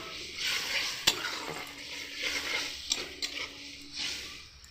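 Cashew paste being added to a curry and stirred, a steady close sizzle with spoon scrapes and a few light clinks against the pot.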